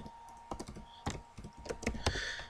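Typing on a computer keyboard: close, irregular bursts of sharp key clicks with brief pauses, no voices.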